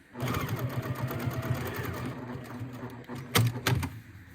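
A sewing machine stitches fabric for a tissue box cover with a quick, steady mechanical whir and needle rhythm at close range, then a few brief bursts near the end.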